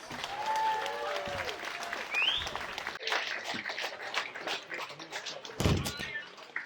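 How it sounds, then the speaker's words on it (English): Audience at an end-of-season football fan event claps in a sustained burst of applause, dense and moderately loud, with a few thumps and brief voices mixed in. "Keep the applause going."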